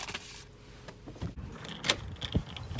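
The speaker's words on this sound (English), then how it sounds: "Got a red key and a bronze key and silver keys." A bunch of new house keys, red, bronze and silver, jangle and clink close by in short metallic bursts, with a few soft handling knocks between.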